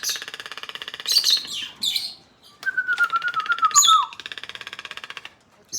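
A rescued parrot at a bird park in Gatlinburg, Tennessee calls out in loud, close bursts: buzzy, harmonic squawks and a long sliding whistle-like note, separated by short pauses with no talking.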